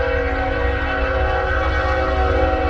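Steady low rumble with sustained tonal horn-like layers, like a train rolling past nearby through a small town, continuous and loud throughout.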